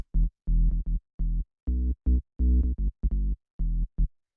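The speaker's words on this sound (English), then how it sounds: "Next thing we have here is the bass, which sounds like this." Deep synth bass notes built from sine waves for piano house, smooth and pure-toned, played in a short rhythmic pattern of separate plucks following the chord progression, with clean silences between them.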